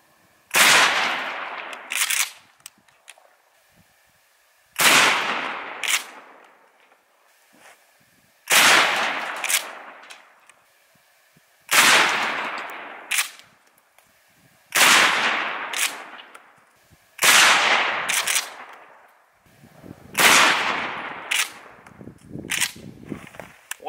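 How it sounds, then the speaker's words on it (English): Shotgun firing regular slugs into a truck door: seven loud, sharp blasts spaced several seconds apart, each with a short ringing metallic tail, outdoors and close. "for the rest of these shots, it's just gonna be regular slugs"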